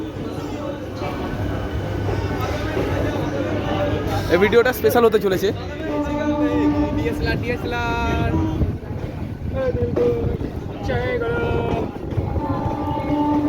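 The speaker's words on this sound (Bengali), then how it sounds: "তো আমাদের ট্রেন ছেড়ে দিয়েছে তারকেশ্বর থেকে হাওড়ার উদ্দেশ্যে" A local train runs from Tarakeswar toward Howrah with a steady rumble and rattle throughout, while someone talks over the noise close by.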